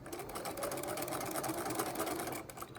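A sewing machine runs a steady, rapid stitching chatter at close range for a temporary line of straight stitches with no back stitch, humming evenly until it briefly eases near the end.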